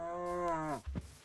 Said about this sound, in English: those are cows, right?